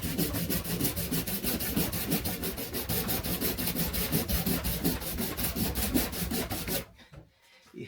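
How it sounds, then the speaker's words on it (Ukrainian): A dull, nearly unsharpened hand saw rasps through wood in fast, regular back-and-forth strokes, close and loud, then stops abruptly near the end as it binds. "Я пропиляв трішечки і пилку стало вже затискати"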